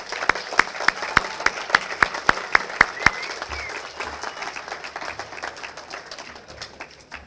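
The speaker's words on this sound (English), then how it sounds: "It's a big applause for our staff." Crowd applause for the staff at the LNA Awards Night, loud and sustained, with a few sharp rhythmic claps standing out early before the clapping tapers off.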